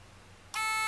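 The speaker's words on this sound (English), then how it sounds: "Now I'm going to get the annoying alarm to go on." A quiet hum, then a loud, sustained electronic alarm beep from a MyPin TA4-SNR temperature controller cuts in abruptly halfway through and continues steadily to the end.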